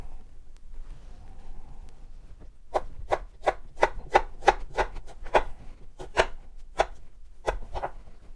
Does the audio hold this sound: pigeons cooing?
no